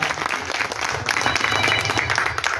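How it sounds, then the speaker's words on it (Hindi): Sustained audience applause fills a district-level honour ceremony for ex-servicemen in Gangapur City, steady and dense throughout, with a crowd clapping together and a faint voice mixed in. "जोरदार तालियां एक बार"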